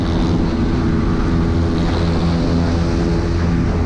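A Suzuki Raider FI motorcycle races flat out on an open road, its engine a loud, continuous droning roar mixed with heavy wind buffeting, recorded close by from a bike giving chase.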